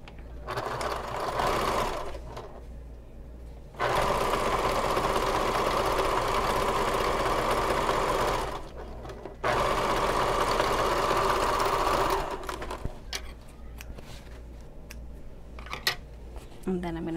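Sewing machine stitching a bag's exterior to its pocket side, running in two long steady bursts with a brief pause between and quieter handling noises at the ends.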